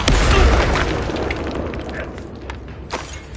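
A Bombarda spell blasts in Hogwarts Legacy, a single loud, deep explosion that booms at the start and rumbles away over a few seconds, with a faint thump afterward.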